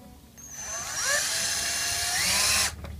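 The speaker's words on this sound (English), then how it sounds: "I'm not going to drill them all the way down yet" A power drill drives screws through splitboard skins into a wooden block, its whining motor rising as it bites in and running steadily for about two seconds before cutting off.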